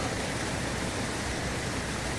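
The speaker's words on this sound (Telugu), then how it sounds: "ఇదిగో భారీ పంపులతో ఎలా బయటకి వాటర్ తోడేస్తుందో" Large dewatering pumps draining floodwater near high-rise towers produce a steady, dense broadband rush of gushing water that stays level throughout, with no voices.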